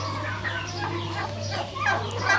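Hens and a rooster in a farm pen cluck in a loose overlapping chorus of short calls, near and moderate over a steady low hum.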